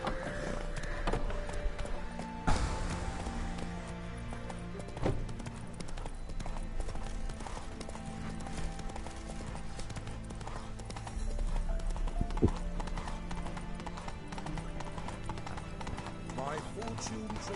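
Steady clip-clop of a galloping horse in The Witcher 3, rhythmic hoofbeats continuing for the whole stretch under game music and occasional voices.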